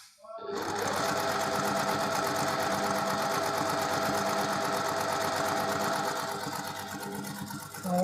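A sewing machine runs steadily, stitching through fabric to lock stitches at a corner of half square triangle pieces, a fast even mechanical whir with rapid needle ticks, close and continuous, then slowing at the end.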